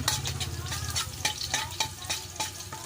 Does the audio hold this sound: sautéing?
yes